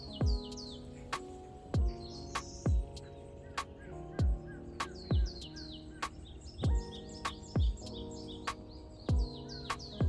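Birds chirp and trill steadily in the background on a forest trail on Gwanaksan mountain in the morning, while a loud, deep gobbling call bursts out repeatedly at a regular pace, close by.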